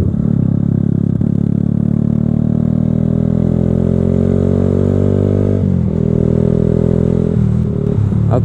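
Yamaha FZ150i motorcycle engine running steadily and loud, a dense harmonic drone holding near-constant pitch before dipping and wavering briefly near the end, with no talking.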